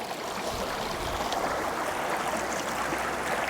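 Creek water rushing steadily through a six-foot modular sluice box set in a wide creek, a continuous broadband wash with no pauses, fairly close and even in level throughout.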